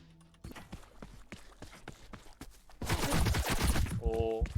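Gunfire in a battle royale video game, heard as a run of sharp separate shots, then a louder dense burst of firing and a short tonal game sound near the end.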